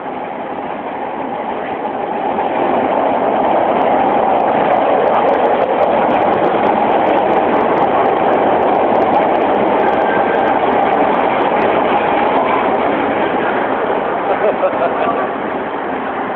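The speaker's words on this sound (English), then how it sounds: "Yeah, here comes the train there." A Chicago CTA subway train pulls into an underground station, its roar rising after the first couple of seconds and holding loud and steady, the rumble and rail screech filling the platform.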